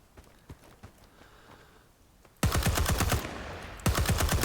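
A hard-kicking weapon in Rising Storm 2 Vietnam fires rapid automatic bursts, loud and close, after a few quieter distant shots and footsteps, with a brief pause between two sustained strings of rounds.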